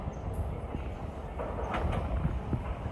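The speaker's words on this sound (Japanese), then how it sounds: "4番線に列車が到着いたします。" A JR H100 DECMO local train on the Hakodate Line pulls into Otaru Station, a low rumble with faint wheel clatter and brakes, heard from the platform at moderate distance.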